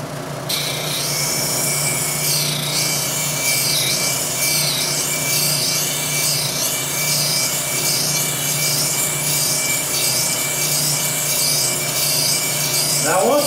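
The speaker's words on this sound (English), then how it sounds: "for this coarse grinding, if you've got a coarser wheel, of course it'll make this go a lot faster" Tool steel held against a grinding wheel for coarse grinding, producing a steady, loud abrasive hiss and rasp over a continuous motor hum, with the contact noise pulsing slightly as the piece moves across the wheel, uninterrupted for the whole span.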